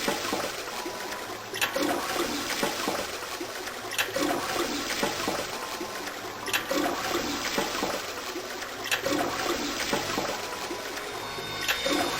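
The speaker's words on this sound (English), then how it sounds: "maybe I have to flush the toilets that many times or something" Toilets flushing in the video game 999, several loud rushing flushes repeating at regular intervals over a steady watery hiss, with no talking.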